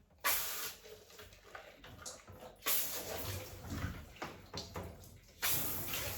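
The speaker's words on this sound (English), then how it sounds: "I'm going to put a tad more water in my leftover foam" Water splashes into a container of leftover dog-grooming foam in a few bursts, each starting abruptly and then running on as a steady rushing pour, close to the microphone.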